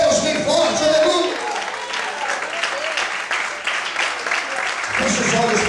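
Church congregation applauding loudly together during a worship service, a dense steady wash of clapping filling the whole stretch with crowd noise beneath it.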